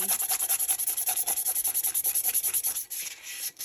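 A glitter epoxy tumbler is sanded by hand in rapid, regular back-and-forth strokes, a close, gritty rasping rhythm that keeps an even pace before slowing and breaking up near the end.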